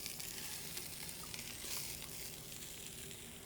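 Chopped vegetables sweating in a few tablespoons of oil in a cast iron skillet for Philly cheesesteaks, giving a soft, steady sizzle with faint stirring scrapes and no talking.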